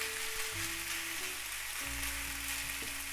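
Potatoes frying in a pan heated to above medium, a steady close hiss and sizzle of oil with faint crackle, continuous and even with no talking.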